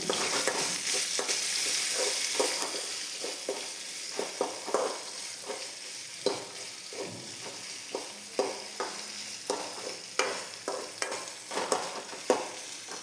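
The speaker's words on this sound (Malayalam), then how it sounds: "ഇഞ്ചി വെളുത്തുള്ളി ചതച്ചതും മുളകും ഇട്ട് കൊടുക്കാം ഞാനൊരു മുളക് മാത്രമേ കീറിയിട്ടിട്ടുള്ളൂ ഒരു മുളക് ഇട്ടിട്ടുള്ളൂ ഇനി നമുക്കിതൊന്ന് വഴറ്റിയെടുക്കാം" Crushed ginger, garlic and a single slit green chili are sautéed in a pan for a Kerala sardine curry. A soft sizzle runs underneath a string of distinct scraping spoon strokes as the mixture is stirred.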